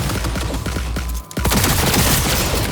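Rapid, punchy gunfire bursts in the video game Cyberpunk 2077 fill the clip, loud and dense, with a brief gap before the shooting resumes at full intensity.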